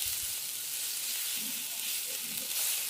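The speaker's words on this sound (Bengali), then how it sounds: "পেঁয়াজে একটু লবণ দিয়ে আমি পেঁয়াজটা হালকা করে ভেজে" Onions salted and frying in a pan give a steady, close hiss of sizzling with a few soft stirring touches.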